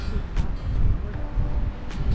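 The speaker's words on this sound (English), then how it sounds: "the wind is unbelievable" Strong, steady wind roars and buffets outdoors at Chilkoot State Park near Haines, Alaska, a dense low rumble with gusty bursts throughout.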